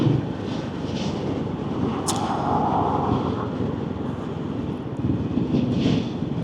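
A Triumph Scrambler 400X motorcycle rides at 30 mph in fifth gear, its engine a steady low drone mixed with strong wind rush, with no talking.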